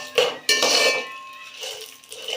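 Cashew nuts for Andhra-style coconut rice drop into a metal cooking pot with a couple of sharp clattering knocks, followed by softer scraping and rattling up close as they settle and are stirred.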